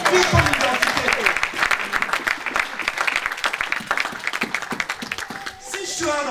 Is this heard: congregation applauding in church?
yes